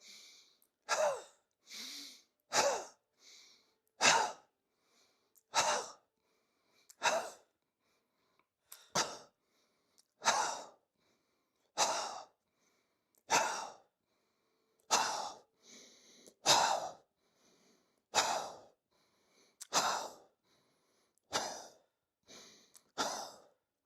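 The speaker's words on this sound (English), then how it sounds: "we're going to breathe in, and then we're going to breathe out" Audible breaths in and out through the mouth during a qigong exercise for digestion repeat in a steady rhythm of distinct, airy exhalations separated by short silences, close to the microphone and with no speech.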